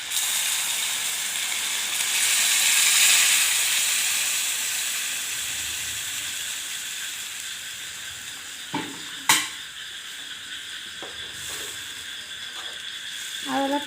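Chicken curry sizzles and bubbles in a pan after hot water is poured in. A loud, steady hiss and steam rush gradually eases, and a few sharp clinks and scrapes of stirring come near the end.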